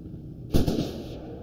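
A distant explosion in the military shooter game Squad, one sharp low boom with a short rumbling tail, standing out over steady background game ambience.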